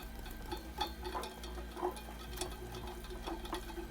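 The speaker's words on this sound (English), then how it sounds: "So whisk, whisk, whisk." A whisk beats a lumpy flour paste in a pan on the stove, making quiet, quick, rhythmic scraping taps, close up and with no talk.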